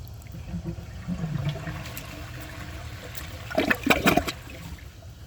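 A 2002 Kohler Gabrielle toilet, clogged and draining too fast for the tank to refill, flushes nearby with a low watery rush and a short gurgling swirl near the end, no voices.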